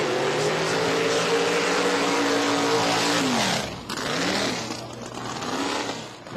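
A 1991 Fox Body Mustang nitrous drag race car roars down the strip at an elimination event, a loud climbing engine note sweeping upward through gear changes before it fades into the distance.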